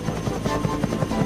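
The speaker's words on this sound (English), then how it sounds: "Would you fly Harold the helicopter, please?" Harold the helicopter flies in a Thomas and Friends video game, a steady loud rotor thrum with a quick even blade beat throughout the short stretch.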